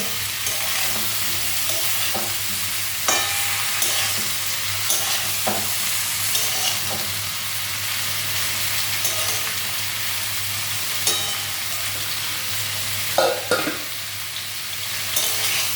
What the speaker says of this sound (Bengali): এটাকে একটু ভালোভাবে ভাজতে হবে